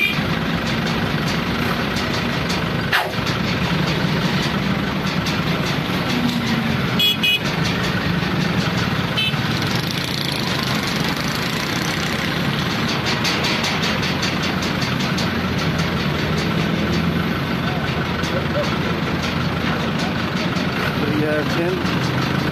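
Heavy traffic stuck in a jam on a bridge under construction over the Indus River near Dera Ismail Khan, with idling car and truck engines, occasional horn toots and beeps, and a constant loud roar throughout.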